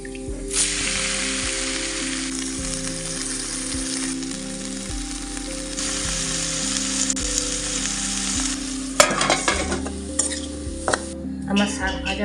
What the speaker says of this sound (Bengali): আমার শাক ভাজা হয়ে গেছে